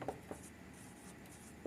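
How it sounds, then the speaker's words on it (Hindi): Handwriting during a math lesson, with faint scratchy pen or chalk strokes tapping at a few moments over quiet room noise, close but very soft. "यहाँ लिखेंगे"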